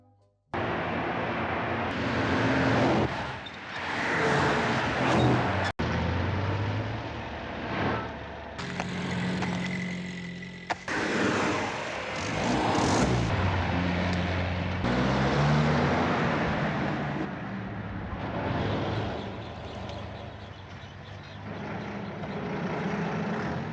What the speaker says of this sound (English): the constant sounds of automobiles invading every moment of traffic